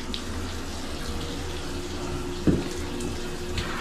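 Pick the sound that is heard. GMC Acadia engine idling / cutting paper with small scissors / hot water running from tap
hot water running from tap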